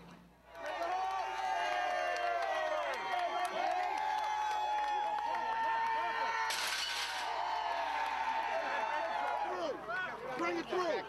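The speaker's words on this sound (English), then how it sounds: "catching the confrontation as the crowd is met by police officers, some of whom push them back" Protest crowd meeting police officers near the White House, a dense roar of many overlapping shouting voices with scuffling and a burst of hiss partway through, loud and continuous.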